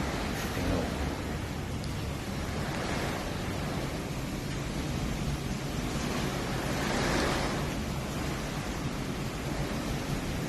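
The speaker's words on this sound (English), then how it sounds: "Yeah, welcome to the storm." Typhoon wind and heavy rain lash a house build site in the Philippines, a constant loud broadband roar with gusts swelling and easing throughout.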